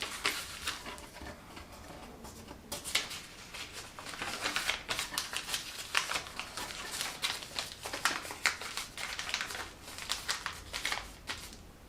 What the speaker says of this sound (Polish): I teraz zawijamy jeszcze papier zwyczajny.